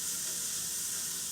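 Onions frying and browning in extra virgin olive oil for a Greek-style spinach dish, giving a steady, close sizzle that holds level throughout with no talk.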